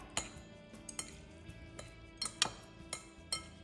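Sichuan zhajiang noodles with spicy minced pork sauce mixed in a bowl: a quiet series of chopstick and utensil clinks and taps against the dish, irregular and close, with no talking.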